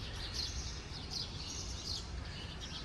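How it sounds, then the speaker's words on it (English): Birds chirp steadily in lush greenery around a Buddhist temple in Bangkok, Thailand, a constant bright chatter of repeated calls over a low background rumble, with no talking. "it's so green that the birds everywhere just non-stop chirp."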